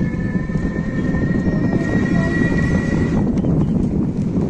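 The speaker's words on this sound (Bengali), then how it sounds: "ঢাকা টু খুলনা সেই রেলের ওভার ব্রিজ, যার উপর দিয়ে রেল যায়" A train crosses a railway overbridge on the Dhaka–Khulna line in a rural area, making a continuous low rumble with a thin sustained tone over it that fades midway, heard close and fairly loud.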